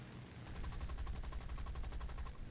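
Aircraft machine gun fire from an OS2U Kingfisher in the game War Thunder: a rapid, even burst of repeated shots lasting about two seconds, heard fairly quietly with engine drone beneath.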